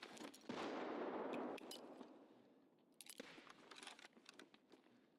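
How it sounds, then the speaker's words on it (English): A grenade explosion in the video game Escape from Tarkov, a loud boom that fades away, then scattered cracks and a second, quieter blast. "Let's throw some nades over."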